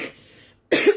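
A single short, harsh cough, close and loud, after a moment of quiet.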